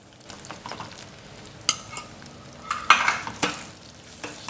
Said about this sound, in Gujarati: ગોળ નાખ્યા બાદ આ રીતે કન્ટિન્યુ હલાવતા રહેવાનું છે, જેથી લોટ અને ગોળ બધું સારી રીતે મિક્સ થઈ જાય।